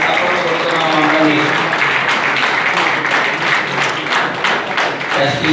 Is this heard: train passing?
no